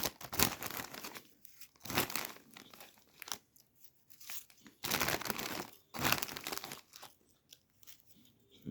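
A plastic snack bag of honey-flavoured Lulu snacks is crinkled and torn open in bursts of loud, close crackling separated by short pauses, with no talking.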